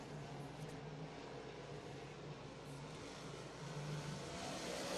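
Modified race cars drone past at Thunder Mountain Speedway in a dense, steady roar of engines heard from a distance, holding even and slowly swelling toward the end with no break.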